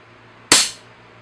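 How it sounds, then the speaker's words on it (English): A sharp, loud mechanical snap as the action of a KalibrGun Cricket PCP air gun is cycled during a trigger test, a single close crack that decays quickly into quiet. "Cycle it, so make sure it doesn't go off."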